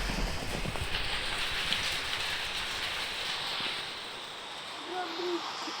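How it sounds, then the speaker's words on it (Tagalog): Rain falls in a video game and outdoors at the same time, a dense, steady wash of drops that eases slightly toward the end. "umuulan sa game ko. Umuulan din dito."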